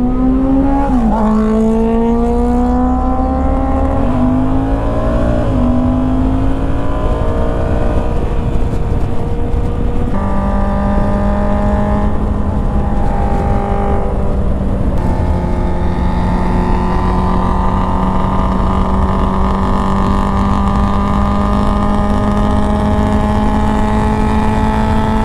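A Kawasaki Z900 motorcycle sweeps past on the open road, its engine note rising and falling in pitch as it closes in and pulls away, with throttle blips and steady wind rush throughout and no talking.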